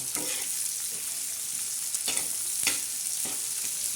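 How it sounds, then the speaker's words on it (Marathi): Onion frying for a tadka in a pan while a spoon stirs it, a steady soft sizzle broken by several light scraping strokes, close and alone with no talk. "आता हा कांदा चांगला नरम करायचा म्हणजे चांगला तडका द्यायचा हे बघा असा"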